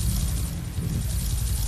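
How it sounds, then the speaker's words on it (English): Helicopter in the Roblox game Brookhaven, a steady low rotor drone with broadband whine that holds loud and constant throughout, with no talk over it. "This helicopter is so slow."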